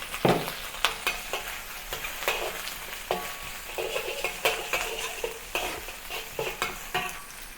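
Ginger and green onions sauté in a hot wok for beef hor fun, with a continuous loud sizzle broken by repeated sharp scraping and tossing strokes of a spatula against the metal.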